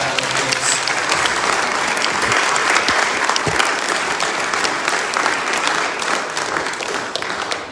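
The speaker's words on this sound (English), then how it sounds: "Let's give them both another massive round of applause." A live tour audience gives a sustained, loud round of applause for two performers, with dense, even clapping throughout and a few faint voices beneath.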